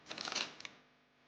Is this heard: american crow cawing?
no